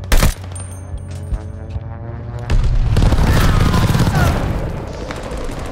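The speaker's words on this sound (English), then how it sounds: "Sending an airstrike." Airstrike explosions in Call of Duty: Vanguard: a loud, dense roar of booming blasts and rumbling impacts that builds and holds steady, with sharp crack-like hits near the start.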